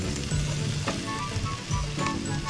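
Beef and Sasayama burdock sizzle and crackle as they stir-fry in a pan, a close, steady frying hiss with occasional scraping knocks.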